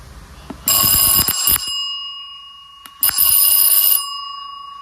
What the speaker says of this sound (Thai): กดหนึ่งครั้งเพื่อเปิดแล้วก็กดอีกหนึ่งครั้งเพื่อปิดครับ